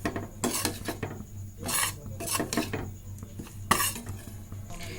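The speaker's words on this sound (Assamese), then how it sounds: "এতিয়া হৈয়ে যাব ভাজা, লাৰি আছোঁ পিঠাগুড়ি" Rice flour dry-roasting in a pan is stirred with a utensil, giving a series of close scraping and rasping strokes against the metal in irregular bursts, with no talking.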